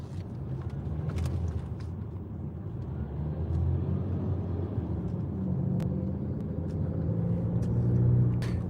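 A self-driving car rolls along a road in Inglewood with a steady, moderate interior rumble of engine and tyres and no talking.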